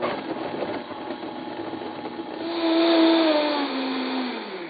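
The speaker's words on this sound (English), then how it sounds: "we're throwing it in the blender here with just enough kombucha to cover it" Blender whirring as coffee is blended in kombucha, a steady motor drone that rises in pitch and loudness as it spins up, close and alone.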